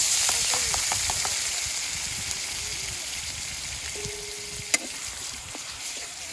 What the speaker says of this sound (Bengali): তেল দিয়ে দিলাম সে বাটা মশলা দিয়ে দিচ্ছি এখন